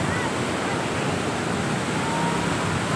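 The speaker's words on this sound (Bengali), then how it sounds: "আর কত জোরে জলগুলো যাচ্ছে, আর আমার আওয়াজ কিছু শোনাও যাবে না" Strong river water rushes beneath Jobra bridge in Cuttack as a dense, steady roar of broadband noise, loud and continuous throughout.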